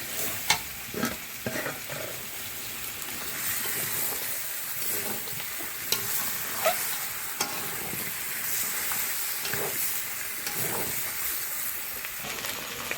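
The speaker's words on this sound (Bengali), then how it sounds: "এবার এর মধ্যে আলুটা মিশিয়ে কিছুক্ষণ একটু নেড়ে চেড়ে নেব" Mutton curry with fried potatoes is stirred in a pot, a spoon scraping and clattering at irregular intervals over a continuous hissing sizzle, close and fairly loud throughout.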